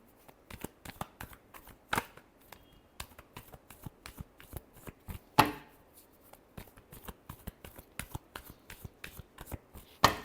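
Tarot cards are shuffled in repeated sharp riffles and slaps, close and crisp, with irregular bursts of card flicks and quieter rustling between, and no talking.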